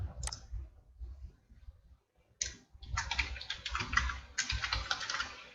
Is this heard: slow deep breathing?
no